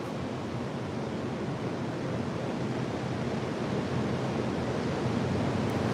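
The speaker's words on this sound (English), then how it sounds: "These waves we had zero, and zero waves the last several days." Ocean waves breaking along the coast of Maine make a continuous, even wash of surf that holds steady throughout, with no voices.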